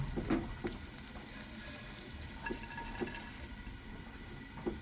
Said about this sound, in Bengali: মাছগুলোকে ভালো করে এধার ওধার নেড়ে নেব মাছগুলো এরকম লাল লাল হয়ে ভাজা গেলে